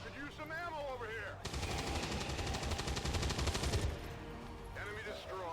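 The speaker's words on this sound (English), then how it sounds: "You're shooting through the floor at this point." Automatic gunfire in XCOM 2: War of the Chosen, a loud rapid burst of shots lasting a few seconds, with speech just before and after.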